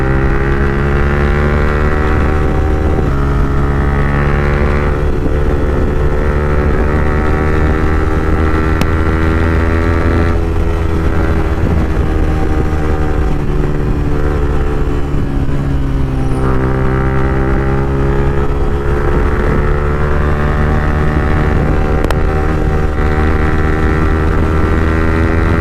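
A motorcycle ridden at full power with a passenger aboard gives a loud, sustained engine drone with strong harmonic tones, shifting pitch a few times as gears change, mixed with steady wind rush and no talk.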